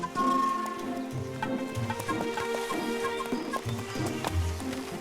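Hooves of a limping horse clop along in an uneven, irregular walking rhythm, set in an animated cartoon scene with a low steady background bed and no talk.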